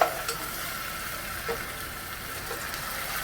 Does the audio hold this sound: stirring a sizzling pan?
yes